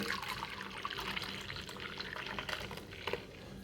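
Soaked wheat is squeezed through a strainer to press out wheat milk for halwa, giving a soft, close trickle and splatter of liquid with small drips.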